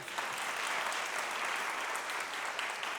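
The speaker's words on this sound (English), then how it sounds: "One more round of applause for our union partners." An audience at a State of the Schools address applauds union partners, a fairly faint but steady wash of many hands clapping from a distance, even and unbroken throughout.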